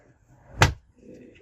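A camper van drawer gives a single sharp, close knock as it shuts or slides home, and a faint rattle follows. No one talks.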